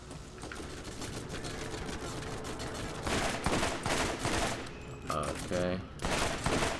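Combat rifle fire in Borderlands, rapid bursts of gunshots cracking loud and close, growing denser in the second half while a man murmurs over them.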